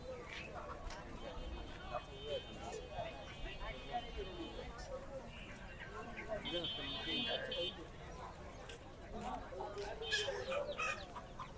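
Chickens cluck among ducks and pigeons at a busy riverside poultry market on the Shitalakshya at Sonakanda, with scattered bird calls under steady talk from people nearby.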